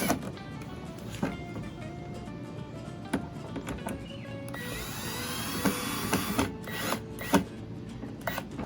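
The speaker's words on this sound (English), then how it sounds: "with the power screwdriver. Makes it much easier." Power screwdriver driving screws into the plastic of a toy garden water and sand table, a steady whirring drive with a few sharp clicks and knocks, close and fairly loud.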